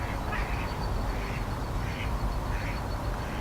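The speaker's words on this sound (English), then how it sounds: "there are ducks in the background." Ducks quack repeatedly in the background, a rhythmic series of calls about every half second over steady outdoor noise.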